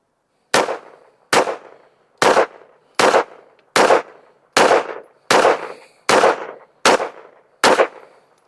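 A Taurus G3 pistol with its compensator removed and factory spring refitted fires ten rounds of Summit City ammunition, ten loud sharp cracks spaced evenly about once per second, each with a short echoing tail, no talking between shots.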